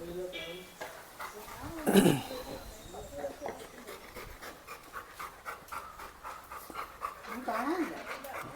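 A frightened dog pants in quick, breathy bursts close by, with a brief whimper and some rustling and handling noises around it.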